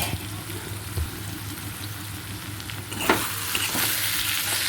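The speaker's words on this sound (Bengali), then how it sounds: "এবারে আমি সব সবজিগুলো একটু নেড়ে চেড়ে নিয়ে পাঁচ মিনিট ঢাকনা দিয়ে আমি রান্না করে নেব" Ivy gourd and potato pieces are stirred in a hot pan, making a steady, close sizzle with repeated scraping and tossing from the stirring utensil. Nobody speaks.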